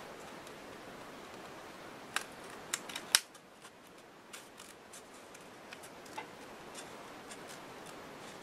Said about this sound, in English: So now we can cut around here.